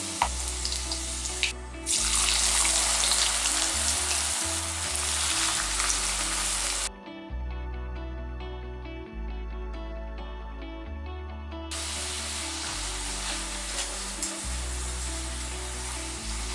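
Pieces of a potato snack deep fry in hot oil, giving a continuous close crackling sizzle that runs throughout over faint background music.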